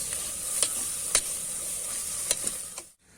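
Food sizzles in a hot pan with a steady hiss, punctuated by a few sharp clinks of a utensil stirring.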